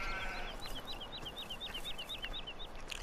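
Sheep in Farming Simulator 17 bleat in a quick repeating run of short, high, wavering calls over a soft background hum, moderately close and without talk.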